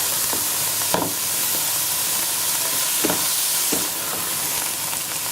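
Fat melting and frying out in a pan for watercress saag gives a continuous hissing sizzle at steady volume, broken by a few short clinks and scrapes, with no voices.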